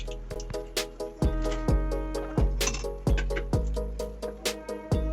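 A metal utensil lifting fried pointed gourd (parwal) pieces out of hot oil clinks repeatedly against the pan and rack, with sharp, bright, ringing taps in an uneven rhythm, close and clear, with no talking.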